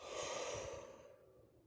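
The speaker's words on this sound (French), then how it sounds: "on prend une grande inspiration et on lâche tout." A single deep breath is drawn in and let out as a soft, close, breathy rush that fades away within under two seconds.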